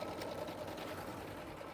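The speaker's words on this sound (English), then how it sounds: "It's quilting right now." A sewing machine stitches quilting on a zippered bag, a faint steady mechanical whir running continuously without pauses or talk.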